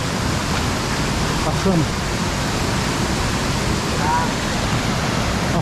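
Powerful water rushes through a rocky stretch at Serra do Tepequém in the Amazon, a dense, constant roar filling the scene, with a voice speaking briefly over it.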